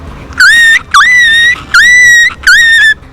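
A young schoolboy vocally imitates a chicken with four drawn-out, high, nasal squawks in a steady rhythm, each held for about half a second, heard close and alone without talk.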